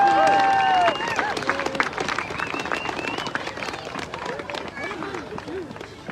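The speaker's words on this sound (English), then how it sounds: "Let's do a big round of applause." A crowd at the Vermont State House Christmas tree lighting breaks into loud applause with a few cheers for the governor, the clapping fading gradually but continuing under scattered voices.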